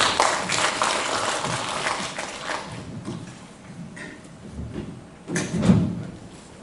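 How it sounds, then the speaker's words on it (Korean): An audience at an academic Buddhist studies conference applauds a presenter, a dense burst of clapping that fades over several seconds before a few scattered claps and a rustle of movement. "큰 박수로 부탁드립니다"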